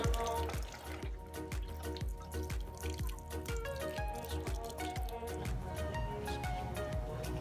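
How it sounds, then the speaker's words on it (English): Watering can pouring fresh water over new potting soil and fertilizer in vegetable containers; a steady, close trickling stream with rapid regular dripping and splashing throughout. "I took my watering can and just put some fresh water over the new soil and the fertilizer"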